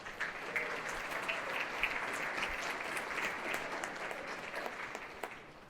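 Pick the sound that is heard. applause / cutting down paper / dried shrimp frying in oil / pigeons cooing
applause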